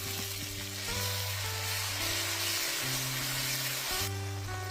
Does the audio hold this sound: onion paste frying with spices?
yes